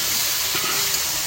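Water poured into a pan of browned frying onion, garlic and salted tomato gives a loud, steady sizzling hiss of steam that fills the whole moment without a break.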